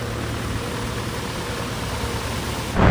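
A tractor drives through a flooded street in Kankhal, Haridwar, during heavy rain, giving a loud, continuous roar of engine and rushing water that holds steady throughout and swells at the very end.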